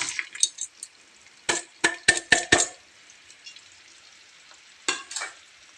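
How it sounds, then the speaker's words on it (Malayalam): Ginger and chopped green chillies fry in oil in a pan, stirred in a cluster of sharp scraping, clinking strokes with a soft sizzle underneath, then a quiet pause before two more stirs near the end. "ഇനി അതൊന്ന് ഇളക്കി വാട്ടട്ടെ"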